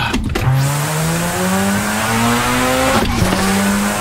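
A game car on a GTA roleplay server revs hard and pulls away, engine pitch climbing through two gear shifts with a brief drop between them, loud and close with faint tire noise.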